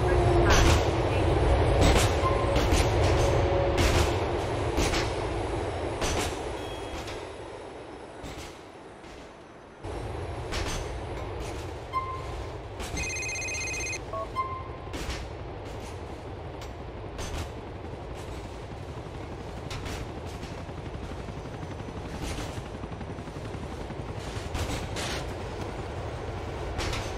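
Subway K train ride through Liberty City in the video game GTA IV: a steady rumbling rail drone with rhythmic clicking and clatter, a brief electronic chime midway, and a voice talking intermittently over it.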